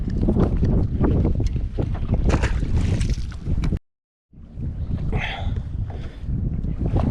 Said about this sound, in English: It's just wind's howling.